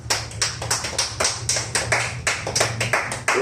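A church congregation claps in a steady, fairly quick rhythm during a Spanish-language worship service, the sharp hand claps sounding close and bright, with a low hum underneath and no talking.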